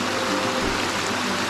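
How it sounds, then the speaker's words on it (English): Clark Creek flowing over a rock ledge at Buckeye Falls, a tall waterfall, giving a loud, steady, broadband rush of water that holds constant over the short stretch without any talk. "going over this ledge, is a stream that holds the tallest waterfall east of the Mississippi River"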